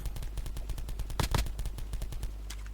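Rapid automatic gunfire from an online shooter game, a steady burst of close, loud shots in quick rhythm with a heavier cluster of blasts midway, no talking.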